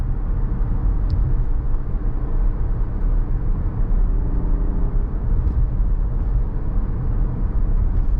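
A 2014 Acura TL 3.7 SH-AWD accelerates in a steady, loud engine and road drone from inside the cabin, a continuous low rumble with no shifts clearly marked, running alone without talk.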